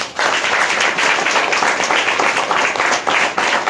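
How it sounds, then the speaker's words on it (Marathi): Sustained, loud clapping from a gathered prayer congregation fills the room, steady and dense throughout. "स्वतःसाठी टाळ्या वाजवणार."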